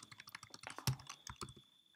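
Rapid, uneven keystrokes on a computer keyboard while someone works in a JavaScript console, close and clear with a few sharper clacks and no talking.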